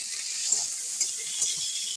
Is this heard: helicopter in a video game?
no